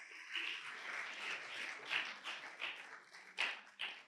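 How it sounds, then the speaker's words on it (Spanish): A church congregation applauds together during a service, a dense wash of clapping that rises and falls over several seconds, with a few sharper bursts of claps near the end. "Dele ese aplauso al Señor en esta tarde ya"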